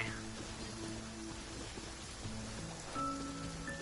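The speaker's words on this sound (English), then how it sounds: "The rain in the game is literally..." Rain falls in the video game Genshin Impact, a soft, even patter spread across the surface, with faint tonal game sounds ringing underneath.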